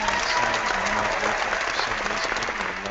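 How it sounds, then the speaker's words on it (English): A studio audience breaks into sustained, loud applause, with dense even clapping that holds steady for several seconds before easing slightly at the end. "round of applause here."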